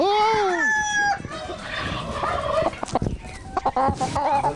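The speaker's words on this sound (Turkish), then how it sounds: "Aşağı yukarı 20 çeşit tavuk görüyorum." Chickens of many breeds, along with geese and ducks, fill a farm yard with loud, overlapping clucking, crowing and gobbling calls, busy and close throughout.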